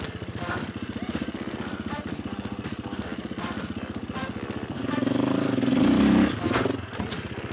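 A Husqvarna FE 350 motorcycle ridden off-road, its engine chugging and revving steadily close by, swelling louder near the end with clattering from the terrain.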